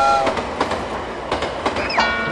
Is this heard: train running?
yes